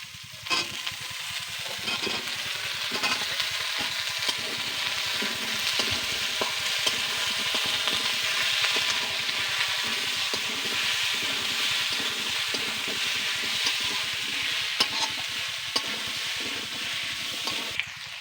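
Potatoes added to a pan with onions and garlic already fried red, sizzling loudly and continuously in hot oil, a dense close crackle with faint intermittent stirring.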